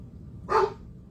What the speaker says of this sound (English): And there he goes, barking down the stairs.